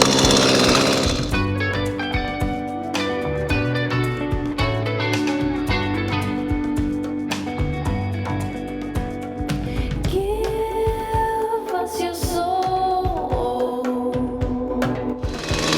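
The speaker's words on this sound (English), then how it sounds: "I'm in a permission woods, I can use a chainsaw" A chainsaw cuts logs in the woods, sounding loud and close with a rough buzzing engine note that shifts in pitch as the blade bites, continuous for the whole stretch.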